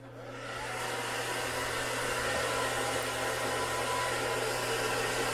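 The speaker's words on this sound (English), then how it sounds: "we're about to run the blow dryer" A blow dryer drawing about 1,000 watts runs on high inside an RV, rising quickly to a steady, loud, close whoosh with a low motor hum underneath that continues unbroken with no talking.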